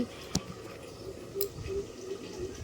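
A small splash of milk is poured into browned biryani meat and potatoes. There are a few soft drips and a short faint trickle, quiet and close.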